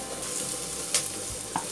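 Cooked chicken breast stirred in a hot pan, a steady close sizzle with a couple of soft scrapes from the stirring, no voices.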